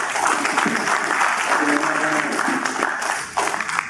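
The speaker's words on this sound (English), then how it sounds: "Can we give them a big round of applause, please?" Audience applause at the close of a conference panel discussion at Satoshi United in Singapore: steady, dense clapping from a crowd that holds loud for several seconds, then thins slightly near the end.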